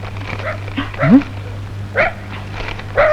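A police dog gives several close, sharp yips and barks, spaced irregularly over a steady low hum.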